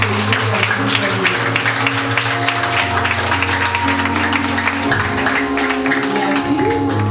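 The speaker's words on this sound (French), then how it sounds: "Donc, bel applaudissement pour nous accueillir, visiter nous." A church congregation applauds during a Sunday worship service, with clapping spread across the room and steady instrumental music and voices underneath, all fairly loud throughout.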